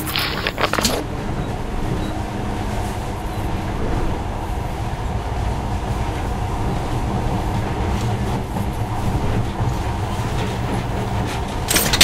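A steady rumbling roll of a monorail train running continuously in the video game Metro: Last Light Redux, with a low mechanical drone and faint rattling throughout.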